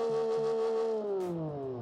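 A simulated car engine in the Automation game revs high with a strong harmonic whine, then the pitch slowly falls as the revs drop, loud and alone with a brief hiss partway through.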